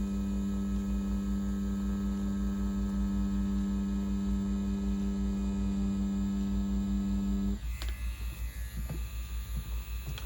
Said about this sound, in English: I love the way this machine pushes this specific configuration.